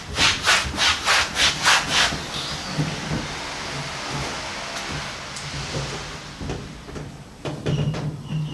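A top load washing machine is dragged across the floor away from a wall, a series of rhythmic scraping rubs at first, then quieter shifting and scuffs with a few sharp knocks, heard close with no talking.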